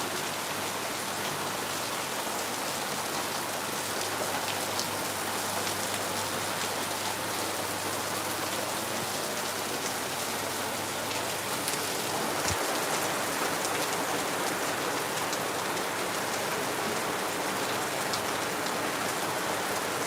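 Heavy rain pours steadily in Lagos, a dense, continuous hiss of drops drumming on surfaces, loud and unbroken throughout with no voices.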